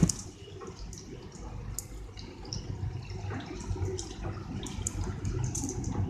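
Heavy rain can be heard through an open door, a dense wash of pattering and splashing with sharp drips and spatters standing out. The sound stays at a moderate, even level with no voices.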